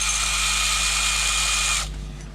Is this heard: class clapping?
no